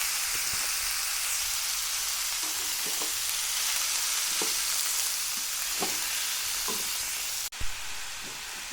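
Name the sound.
mushrooms and chicken being stir-fried in a pan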